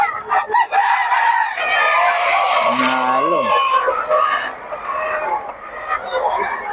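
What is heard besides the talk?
chickens crowing and clucking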